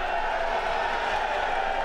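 A large crowd at a Pakistan Muslim League (N) party gathering roars with chanting and applause, a dense, continuous wash of voices and clapping that stays loud throughout.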